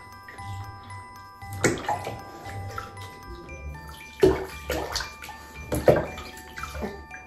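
Water splashing and sloshing in a bathtub as a baby is washed, soft intermittent splashes with a few louder bursts, close by, with no talk over them.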